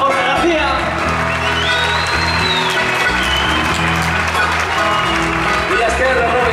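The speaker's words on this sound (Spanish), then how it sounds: "¡Fuerte aplauso para Jorge García!" Loud applause and cheering from a live crowd for a performer on an outdoor festival stage, steady and dense throughout, with shouts and whoops mixed in over music or talk.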